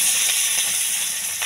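Green chilies and five-spice tempering hit hot oil for a Bengali rui fish curry, giving a loud, close, continuous hissing sizzle that holds steady and fades slightly toward the end.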